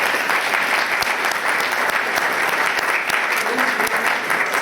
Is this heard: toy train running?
no